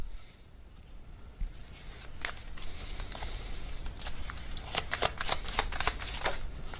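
Tarot cards are shuffled by hand in a steady run of soft riffling patter that grows busier toward the end, with crisp flicks as cards slip and one flies out, close and fairly quiet with no talk.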